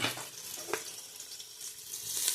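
Oil spitting and crackling as onions, curry leaves and bay leaves are mixed in a pan for leg-fry biryani, a soft, steady sizzle with a few small pops and stirring scrapes.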